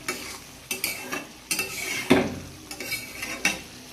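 A spoon scrapes and clatters in a pot as ground coconut paste is stirred into a prawn and taro curry, with a quick run of uneven stirring strokes and a light sizzle beneath.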